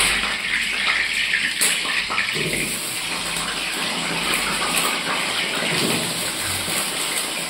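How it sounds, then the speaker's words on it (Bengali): Potatoes frying in a pan on a home stove give a steady, even sizzle that holds at one level throughout, with no one talking. "এবার আলুটা ভেজে দেবো।"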